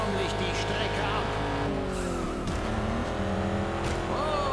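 Race cars in the video game Juiced 2 firing nitro boosts, loud continuous engine roar with tire squeals and skids, under excited commentary.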